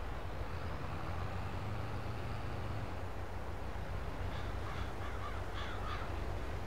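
Crows caw in the Farming Simulator video game during a wheat harvest. Several faint, distant calls sound in the latter half over a constant low rumble of farm machinery.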